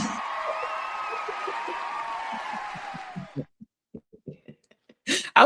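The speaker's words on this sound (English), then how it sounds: "I was going for the slow build up clap" Broad crowd noise fades out, then a handful of slow, isolated hand claps follow one by one at an uneven pace, sparse and fairly close, before a voice comes in.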